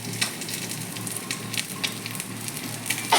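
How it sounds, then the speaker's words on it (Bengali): Fish sizzling as it fries in hot oil in a pan for a curry, a steady close crackle with a few sharper spits and stirring scrapes, no talk. "একদম মাছ তেলের পরে দিয়ে দিচ্ছি"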